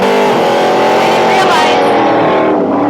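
Drag racing engine at Holley LS Fest West, a loud continuous roar with rising revs, steady and close throughout, with crowd chatter and voices mixed underneath.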